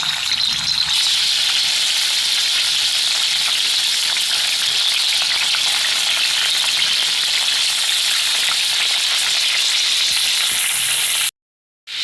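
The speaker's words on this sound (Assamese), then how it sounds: "ইয়াত মই মাংসখিনি ধুনিয়াকে এইখিনি মই ৰংচোৱাকে ভাজি লম।" Chicken pieces fry steadily in hot oil in a wok, giving a dense, loud, continuous sizzle with a faint crackle throughout, cut off abruptly near the end.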